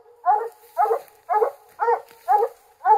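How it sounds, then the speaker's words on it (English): A coon dog baying at a raccoon treed at night outdoors, six steady, evenly spaced barks at a moderate distance, with nothing else heard between them. "There's a coon dog."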